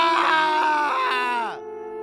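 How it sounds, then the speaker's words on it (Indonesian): A drawn-out, strained cry from inside a house in an audio drama, loud and harmonic, sliding downward before breaking off and leaving a low hum. "tiba-tiba terdengar teriakan yang memekakan telinga yang berasal dari dalam rumah"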